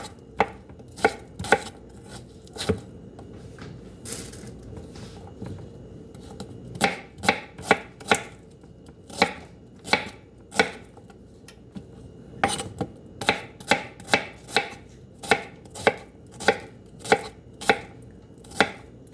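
White onions chopped with a knife on a cutting board, a run of sharp close knocks in quick irregular bursts with short pauses between, no talking.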